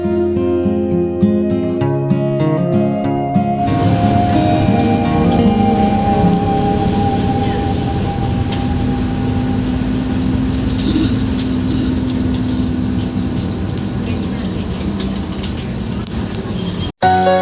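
A local Blora–Surabaya passenger train rumbles steadily from inside a carriage, with a low engine drone and a brief clatter of wheels and metal.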